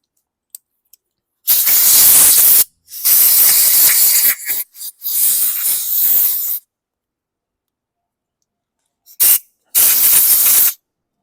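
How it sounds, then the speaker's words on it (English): Compressed air blasts hiss loudly across a 2015 Troy-Bilt TB110 push lawn mower in several bursts, two long and one shorter at first, then after a pause a brief puff and another long blast, with silence between. "let me just do some general blasting with some compressed air, which is right behind me"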